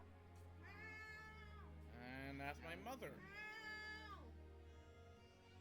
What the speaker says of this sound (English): so eventually you hear a cat in the distance.